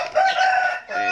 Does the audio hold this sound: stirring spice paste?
no